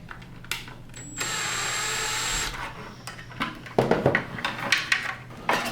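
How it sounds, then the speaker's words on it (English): A power screwdriver drives screws back into the top of a Prolux CTX vacuum during reassembly, with a steady whirring run of about a second, then shorter bursts and clicks of handling nearby. "So go ahead and screw those screws back in top."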